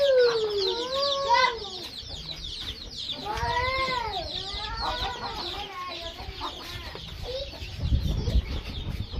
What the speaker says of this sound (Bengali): দেখ মুরগিগুলো দেখ